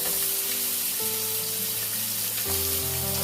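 Crabs coated in salt and turmeric frying in hot oil, a dense continuous sizzle heard close and loud with a faint tonal hum underneath and no talking.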